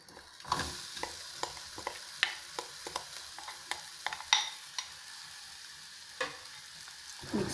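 A spoon scrapes and stirs through capsicum and spices frying in a pan for a curd curry, a soft continuous sizzle broken by sharp, irregular clinks and scrapes up close.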